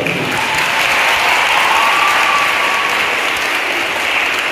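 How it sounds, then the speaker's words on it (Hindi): A loud, dense round of applause from a school audience at an International Women's Day program, steady and continuous with many hands clapping together, a faint tone drifting underneath. "धन्यवाद आपके इस जोशवर्धक तालियों के लिए।"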